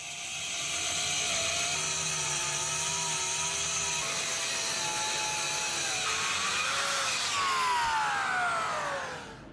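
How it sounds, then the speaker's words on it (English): A track saw rips wide boards into three pieces for a tabletop build, with a steady loud whine running throughout and a shifting, rising pitch toward the end of the cut. "I'll be cutting them into 3 pieces with the track saw"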